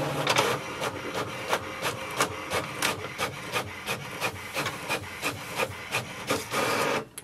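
An HP Envy 6255 printer makes a copy, giving a steady run of rhythmic mechanical clicks and rubbing strokes from the paper feed and print head, ending with a brief whir.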